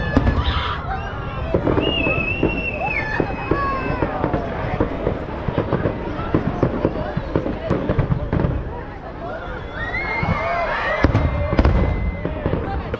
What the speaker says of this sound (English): Fireworks just finished.